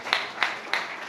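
A few sparse hand claps from a pitch battle audience, three distinct claps spaced evenly over a short moment, fairly close and brief.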